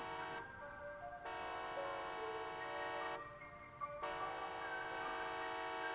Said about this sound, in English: It's like an air horn- it's like a horn.